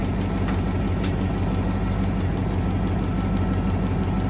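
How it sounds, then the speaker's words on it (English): A 1963 AMC 287 V8 sits idling in park at about 720 RPM, a steady, loud, close low rumble with even engine pulses throughout and no voices. "we're at about 720, 25 RPM. Just about perfect for sitting idling in park."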